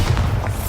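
Bombarda spell explosion in Hogwarts Legacy, a short loud low thump with a deep rumbling body and a couple of faint crackling bursts on top, heard alone.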